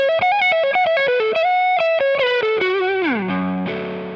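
Heavily distorted electric guitar, a PRS Myles Kennedy model with humbucker pickups, plays a quick melodic run with bends, ending on a sustained, slowly fading note, loud and up close.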